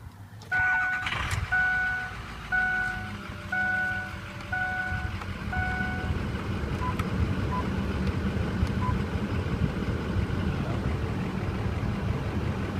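A car engine with 176,748 miles cranks and catches while a warning chime beeps repeatedly, then the motor settles into a steady idle rumble close by.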